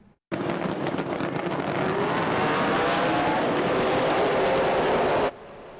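Race cars roaring past on a track, a loud dense engine rush that starts abruptly and holds for about five seconds before cutting off.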